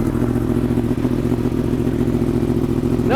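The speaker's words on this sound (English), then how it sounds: "we're gonna do a cold start real quick on the R1" Yamaha R1 motorcycle idling right after a cold start, a loud, close, steady engine rumble with a rapid mechanical clatter and even firing pulses, ending on a brief rising blip of throttle.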